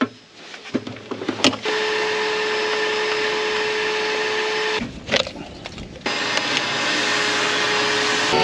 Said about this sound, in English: while he's vacuuming out that plug